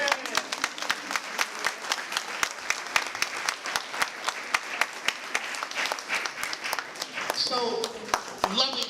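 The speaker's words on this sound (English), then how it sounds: "You can clap for that." Audience at a high school commencement ceremony breaks into applause, a steady stream of many hands clapping with sharp individual claps standing out, and a voice rising over it near the end.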